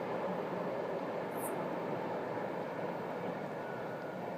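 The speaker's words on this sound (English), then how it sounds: "you can hear a train passing by going to Sofia" A train running on the railway to Sofia through the Iskar Gorge near Lukovo, a steady, continuous rumble that holds evenly throughout without a clear approach or fade.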